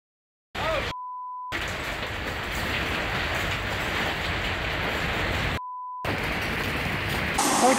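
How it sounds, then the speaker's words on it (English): A train rolls past nearby, a steady broad rumble with faint rhythmic clatter lasting several seconds, interrupted by two brief gaps and swelling slightly at the end, with no voices. "Oh, the train."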